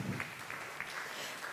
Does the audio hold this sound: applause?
yes